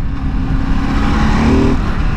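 The 950cc L-twin engine of a 2023 Ducati DesertX motorcycle drones loudly and steadily from close by, its pitch rising briefly as the rider revs it.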